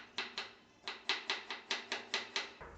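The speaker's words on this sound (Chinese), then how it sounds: "我们再切成丝儿" A knife chops bamboo shoot slices into shreds on a cutting board, about eleven quick, sharp, evenly paced strikes, close but fairly quiet, with a brief pause partway through.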